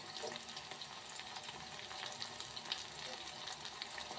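Steady, close sizzling of garlic frying in hot oil, a continuous crackling hiss with no voices.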